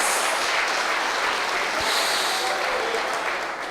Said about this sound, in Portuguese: Será que você pode aplaudir aquele que te ama?